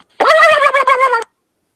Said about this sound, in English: It's the turkey sound effect.